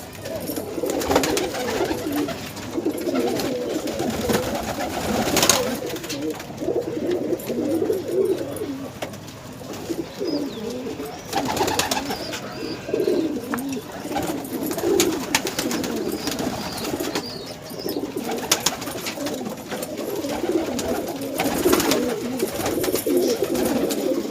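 Pigeons coo repeatedly in soft, rolling calls close by, with occasional louder bursts and flutters over a steady background.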